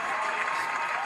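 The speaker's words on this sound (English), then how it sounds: "Round of applause for me." Crowd applause plays as a short, steady burst of clapping and cheering, loud and continuous for about a second.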